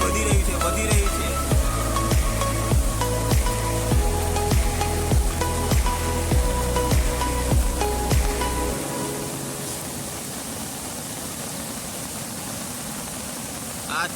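Heavy rain over Gadod village, a dense steady roar of water that runs loud for about nine seconds with repeated rhythmic low thumps, then drops to a softer, even wash of falling water.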